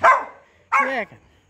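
A dog gives two loud, close barks, the first short and sharp, the second longer and more drawn out, with a brief silence between them.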